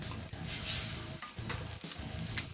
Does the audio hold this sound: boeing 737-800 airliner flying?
no